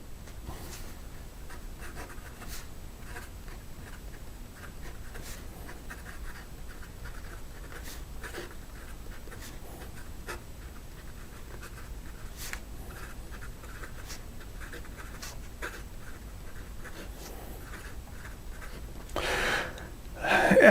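A Wancher Maki-e fountain pen with an IPG nib scratches steadily across paper in a long continuous run of writing strokes, close and soft, ending in a brief louder rustle.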